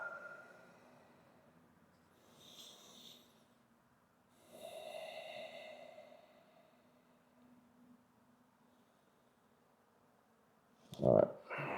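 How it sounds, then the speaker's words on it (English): Slow, deep breaths in and out during a hip mobility workout, faint and close, with long, soft inhales and exhales spaced a few seconds apart, ending in a sharper, louder breath. "go back to that nice slow breath in"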